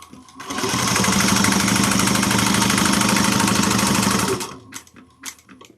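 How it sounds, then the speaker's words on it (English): Sewing machine running steadily for about four seconds while top stitching a one-eighth inch seam on a bag strap, a fast continuous close-up whir that stops abruptly, followed by a few faint handling clicks. "Now let's top stitch. One-eighth of an inch."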